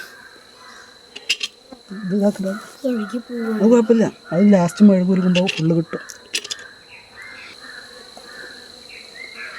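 Stingless bees buzz steadily around a hive in the background while someone talks over it, the drone carrying on softly after the speech stops.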